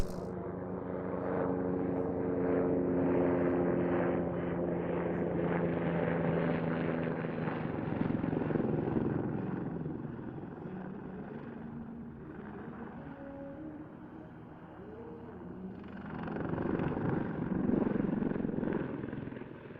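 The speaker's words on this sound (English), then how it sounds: "the Tiger is coming back in towards us to perform a manoeuvre that very few helicopters can pull off" A Tiger helicopter's rotor and turbine drone steadily, swelling and fading as it flies a loop at an airshow at a distance, then growing louder again toward the end.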